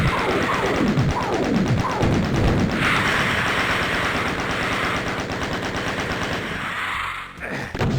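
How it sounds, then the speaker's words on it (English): Rapid, continuous chain gun fire in the video game DOOM Zero, loud and close, a dense unbroken rattle of shots with other game effects mixed in, cutting off near the end. "let's take out the chain gun and let's just get in his face"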